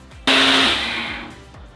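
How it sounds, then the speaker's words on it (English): A small cup blender whirs up with a sudden loud start to blend butter chicken sauce, running steadily for about a second before winding down and stopping, alone with no talk. "just a quick blend"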